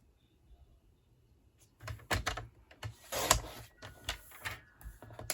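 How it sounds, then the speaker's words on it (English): Card stock for a stamped tower card being cut with a paper trimmer: a quiet start, then several sharp, close scraping and clicking bursts of the blade sliding through the paper, with no talking. "You're going to flip it over and cut it 1 5/8."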